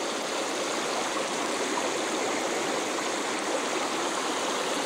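Stream water flowing steadily at Agua Negra in Jáchal, a continuous broadband rushing and burbling close by, loud and unbroken with no voices.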